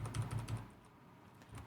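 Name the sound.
typing an SQL query on a computer keyboard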